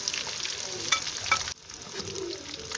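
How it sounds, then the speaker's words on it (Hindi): Dola fish frying in oil in a pan over a low flame, a steady close hiss of sizzling that drops slightly in level midway and continues without talk. "इसको हमने हल्की आंच पे फ्राई करना है ताकि ये अंदर से भी पक जाए"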